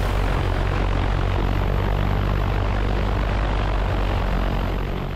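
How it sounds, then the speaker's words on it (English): A DJI Agras T40 agricultural drone, massive and loaded with winter rye seed, flies over a field in Maine, giving a loud, steady, close rotor roar that holds without a break throughout. "This is a DJI Agris T40 drone."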